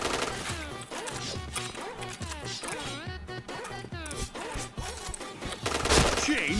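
Rapid automatic gunfire and impacts rattle through a shooter video game match, dense overlapping bursts mixed with clanks and game effects, fairly busy and continuous, with faint voices in the background.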